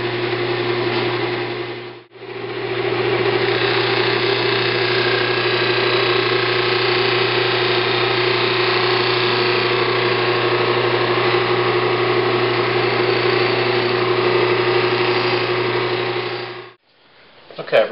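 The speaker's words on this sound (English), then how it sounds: "I'm putting on a medium cut wheel just to see if I can get a couple of these spots worked out" A bench buffing wheel loaded with medium cut compound runs steadily with a loud, even motor whine, briefly cutting out near the start and stopping at the end.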